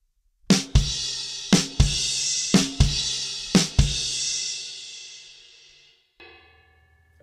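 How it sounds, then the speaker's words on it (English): A drum kit plays a heavy groove: a snare hit followed by a crash with bass drum, repeated several times in a slow, loud, booming pattern, the final cymbal ringing out before a brief tap. "We're hitting the snare on 1, and then the next 16th note, we're hitting a crash with the bass drum."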